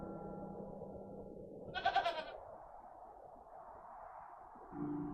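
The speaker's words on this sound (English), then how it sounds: "I'm not fond of goats at the best of times, but this one seems particularly disagreeable." A goat in the video game The Excavation of Hob's Barrow lets out a single wavering bleat over a low, steady ambient hum, with the background droning on afterward.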